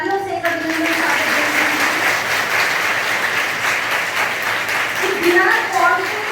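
Students at a scholarship ceremony for meritorious students give a loud, continuous round of applause, with a voice speaking over the clapping near the start and again near the end.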